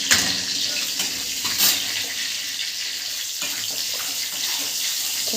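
Whole garam masala spices fry in hot ghee in a kadai for an egg curry, giving a steady broadband sizzle and hiss that runs the whole time, with a few small pops and clatters near the pan.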